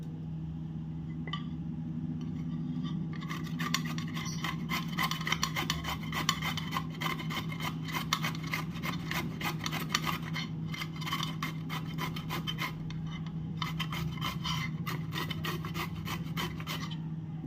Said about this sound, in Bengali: কেটে নিয়ে গ্রেটারের সাহায্যে খুব সুন্দর করে কুড়িয়ে নেবো